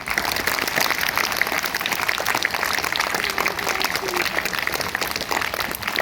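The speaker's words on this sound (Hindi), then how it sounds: "एल्बर्ट आइंस्टीन के लिए जोरदार तालियां।" Schoolchildren at a smart school in Tosham, Bhiwani, break into loud, sustained applause, a dense, even wash of many hands clapping steadily throughout.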